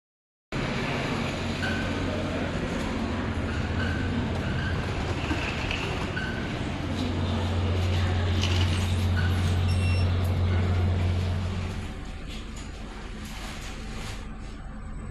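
A train stops at Padalarang station with a sustained low mechanical rumble and hiss, a steady tonal drone that swells midway before easing off.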